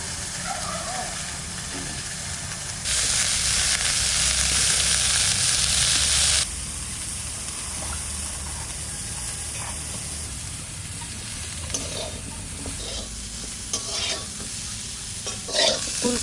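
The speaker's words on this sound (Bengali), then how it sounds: "ফুলকপিও ভাজা হয়ে গেছে।" Cauliflower fries in white oil in a wok, giving a loud burst of sizzling and hissing that later settles into softer frying, with scrapes and clatter from stirring.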